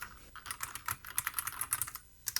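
Rapid, uneven clacking of keys on a bolt-modded IBM Model M buckling-spring keyboard fitted with new keycaps, crisp and close with a brief pause near the end before a few more strokes.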